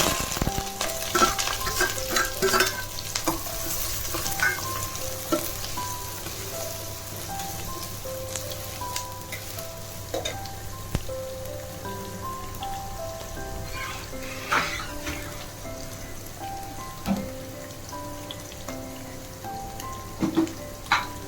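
Two large onions frying in a pan while being stirred, a continuous crackling sizzle like light rain with occasional spatula scrapes and clinks, close and without speech.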